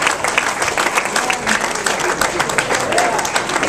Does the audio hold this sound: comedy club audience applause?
yes